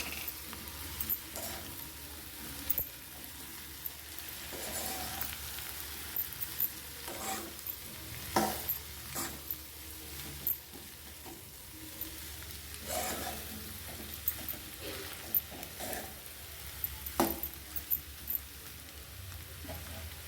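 Mashed potato being stirred into a pan of spiced potato bhaji, giving soft sizzling with repeated scraping and knocking strokes of a spoon against the pan. The strokes are close, moderately loud and irregular over a steady frying hiss, with no voices.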